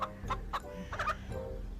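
A chicken clucking in a village scene from a children's knight cartoon, several short bright clucks in quick succession, close and clear, with a faint low hum beneath.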